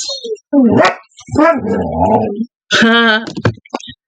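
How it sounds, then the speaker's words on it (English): A dog barks and yips close by in several sharp, tonal bursts separated by short pauses, loud and clear with no talk over it. "Hopefully the dog barking isn't bugging your ears."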